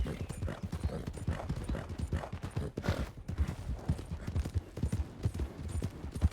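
Horses gallop with a rapid, continuous clip-clop of hooves, loud and close throughout.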